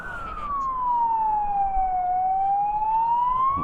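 An ambulance siren wails close by, its pitch dipping and then rising again as it passes, over a low road rumble, near Goondi Bend, Innisfail, Australia.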